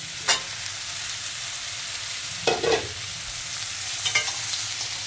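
Okra being sautéed with turmeric in a pan: a steady low sizzle runs throughout, broken by three short bursts of stirring or spatula scrapes near the start, middle and end, with no talk.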